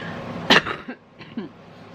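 A person with asthma gives a single harsh, close cough followed by a couple of softer throat-clearing coughs, all within a quiet room.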